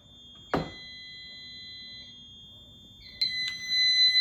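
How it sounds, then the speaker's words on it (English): A home fire alarm system's front room smoke detector chirps loudly during a system test, then a steady high-pitched electronic alarm tone sounds, joined by a second sharp chirp near the end. "you can see it on the annunciator, front room smoke detector."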